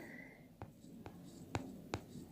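A pen writes a geometry proof on paper in a quiet room. Several short, separate scratchy strokes come at irregular intervals, close and soft.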